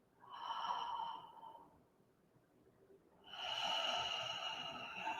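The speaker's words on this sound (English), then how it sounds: "And taking one last deep breath." Two slow, deep breaths drawn and released, an airy inhale-exhale followed after a pause by a louder, longer one, soft and close with no talk.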